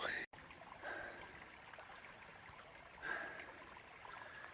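A small mountain stream on the Appalachian Trail flows with a steady, close trickling wash that holds on throughout, briefly cut by a gap near the start.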